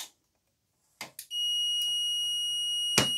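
A Chubb UTC.PACK type 2a fire alarm panel goes into alarm: a few short clicks, then a steady, loud, piercing electronic tone holds continuously, with one brief louder burst near the end.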